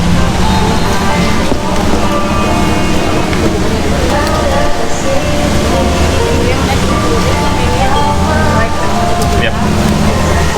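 Steady rain falls in Bandung, a constant dense hiss with a low rumble that carries on without a break, and a voice talks over it.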